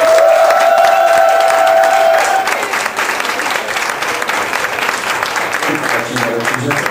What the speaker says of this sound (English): Let's hear a round of applause again for Miss Jade Sinclair.